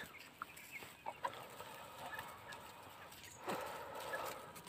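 Three-month-old Brahma chickens cluck softly in a few short scattered calls, faint and close, with light rustling in a quiet pen.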